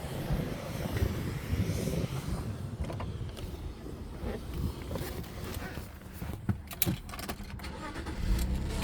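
A BMW E60 520i with the M54B22 inline-six petrol engine starts and runs, giving a steady, fairly loud engine drone and mechanical rattles with a few clicks, while a person talks over it.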